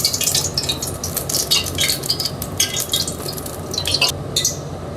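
Oil going into a pan to fry goat meat in a home kitchen, with continuous crackling, dripping sizzle and light clinks close by, steady throughout with no talking.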